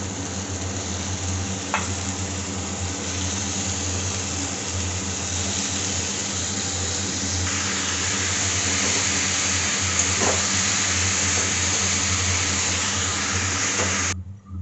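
Taro stolons fry in oil with spices that have already been browned, a steady close sizzle with a few faint stirring clicks, continuing evenly before cutting off abruptly.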